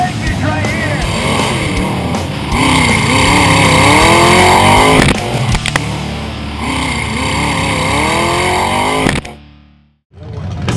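Off-road race rigs, Ultra 4 cars and rock bouncers, roar and rev hard at the 2017 Backdoor Shootout in Johnson Valley, California, a loud, dense wall of engine noise that cuts out sharply near the end.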